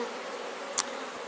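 Bees at a beehive give a soft, steady buzzing drone, faint and continuous, with one brief sharp tick partway through.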